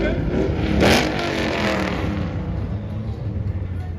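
An Ultimate race car tears past at Brands Hatch, its engine howling loud and close in one sharp surge before fading into a lingering roar, with a voice talking over it.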